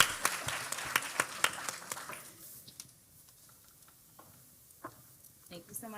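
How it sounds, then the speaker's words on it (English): A crowd applauds at a multiple myeloma patient event in Houston as a speaker returns to the stage. Moderate clapping fills the first two seconds, then dies away into quiet room noise with faint scattered claps. "Y'all give Ebony a round of applause."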